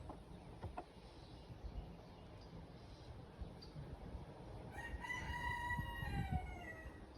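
Backyard roosters crow faintly in the distance, one drawn-out call rising clearly near the end over quiet ambient noise, with no talking.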